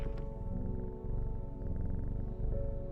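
A cat purring in the video game Strange Horticulture, a close, steady rumbling purr pulsing with each breath, with no voices over it.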